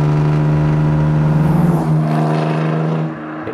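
A Jaguar XK120 sports car drives on the road with a loud, steady engine drone close up. Its pitch rises slightly and then eases off before the sound fades at the end.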